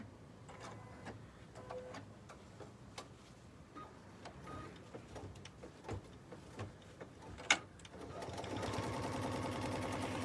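A BERNINA embroidery machine stitches the tack-down and cutting line for a free-standing heart gift box, a quiet, steady mechanical chatter with faint ticks, swelling into a louder, denser run near the end.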